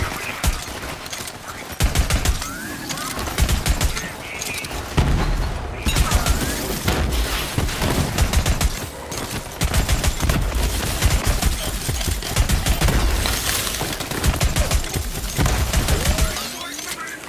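A revolver in a video game fires in quick, loud bursts of repeated shots with booming impacts, broken by short pauses, while someone talks over the gunfire.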